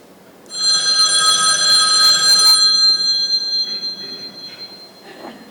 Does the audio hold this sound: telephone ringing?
yes